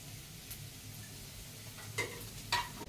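Curry leaves sizzling in a pan while chicken fry is stirred, a quiet steady frying hiss with a few brief clinks and stirring scrapes toward the end.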